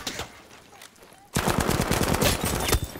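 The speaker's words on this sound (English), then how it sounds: "Someone's shooting from back." Rapid automatic gunfire erupts loudly from behind after a quieter opening during a Battlefield V team deathmatch, dense bursts of shots rattling on for the rest of the moment.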